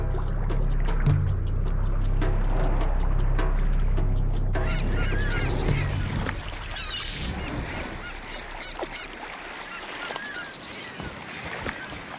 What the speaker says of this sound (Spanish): Incluso las gaviotas se llevan su parte.